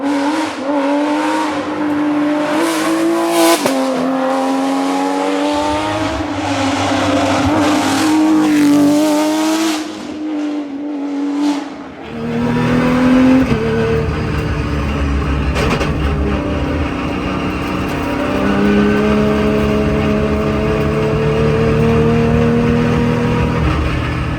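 A Porsche 911 GT3 race car engine howls at speed, loud and sustained, with rising and falling rev harmonics through gear changes, a brief dip near the midpoint before it pulls hard again.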